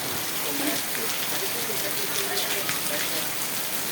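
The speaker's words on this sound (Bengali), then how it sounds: "অবশেষে বৃষ্টিটা কমে আসছে" Rain falls steadily on a market at Sonapur Bazar, a dense even hiss of drops on surfaces close by, with a faint voice over it.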